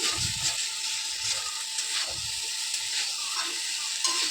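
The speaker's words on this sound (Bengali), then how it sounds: "সয়াবিনের আলুটা মশলা দিয়ে ভালো করে কষিয়ে নিচ্ছে" Soybean chunks and potato frying with spices in a pan, a steady close sizzle with occasional scraping stirs, no one talking.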